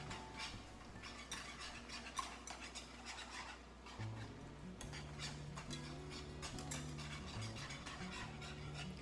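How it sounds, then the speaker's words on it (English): A sauce being whisked in a pot, with the metal whisk clattering and scraping rapidly and steadily against the pan for several seconds, close and fairly loud, with no talking. "we're going to whisk, whisk, whisk, whisk, whisk, and be quick about it"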